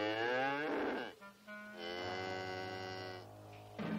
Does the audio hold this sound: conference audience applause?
no